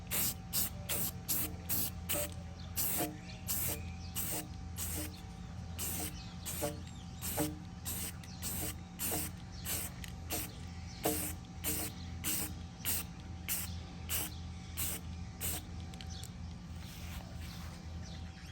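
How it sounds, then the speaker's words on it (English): Repeated short hissing bursts of an aerosol can spraying gloss paint onto PVC, evenly spaced bursts over a steady low hum, close by. "it's time to spray paint."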